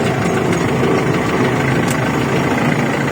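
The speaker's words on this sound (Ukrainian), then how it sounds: "Ось оце юзик з сандовським мотором." A YuMZ tractor with a Sando engine idles loud and close, a steady dense rumble with faint knocking running without a break.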